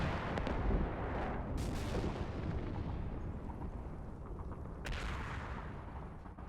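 Artillery fire in the Cold War tactical wargame Combat Mission: Cold War, a dense continuous rumble of distant booms and crackling impacts lasting throughout, with a couple of sharper bursts standing out.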